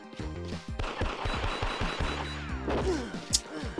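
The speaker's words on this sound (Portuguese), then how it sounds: "Olha lá, dando tiro deitado" Enemy gunfire rings out in the arcade shooter Elevator Action Returns: rapid bursts of sharp shots with crashes and impacts, punchy and busy, among game music.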